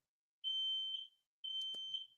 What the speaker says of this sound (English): My fire alarm going off?